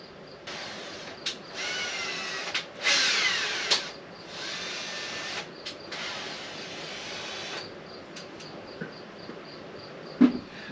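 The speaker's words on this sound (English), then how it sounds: "I'll run one of these ties right here through two holes that I'm going to drill on the bottom of this mount" A power drill bores holes into the bottom of an ambulance dash cam mount, whining in several close, loud bursts of a few seconds each, separated by brief pauses, with no talking.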